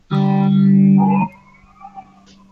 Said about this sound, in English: So you've got a ring modulator you can put in there.